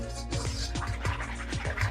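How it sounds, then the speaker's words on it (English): Chocolate budino batter being mixed in a bowl, wet, rhythmic swishing and squelching strokes repeating about every quarter second, close and fairly quiet. "So we're just mixing."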